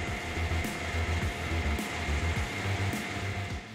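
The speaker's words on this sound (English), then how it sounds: "the Woodcracker C550 tree cutter can cut trees up to 55 centimeters in diameter." Woodcracker C550 tree cutter machine, able to fell trees up to 55 cm thick, working in forestry with a steady loud mechanical drone and rhythmic grinding, clanking pulses throughout.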